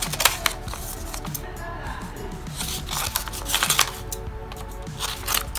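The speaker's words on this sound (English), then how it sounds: "Be careful when you're using scissors." Crisp snipping and rustling of scissors cutting through card paper, close by, in short irregular bursts with a voice talking quietly in the background.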